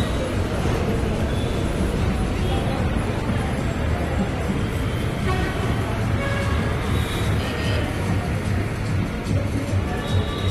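Busy street noise beneath an overhead metro station in Hyderabad's Koti bazaar, a dense steady rumble of traffic and rail with crowd murmur and voices mixed in.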